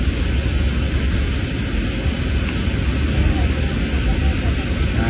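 Steady, loud roar of a passenger plane's engines and rushing air heard from inside the cabin as it comes in to land, a constant, unbroken broadband rumble.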